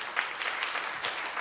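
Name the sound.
audience applause at a conference panel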